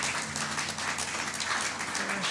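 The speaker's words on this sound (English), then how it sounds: "You can clap for sure." Clapping from a congregation gathered for a coming-of-age service fills the room in a continuous, moderately loud patter, with a faint low murmur underneath.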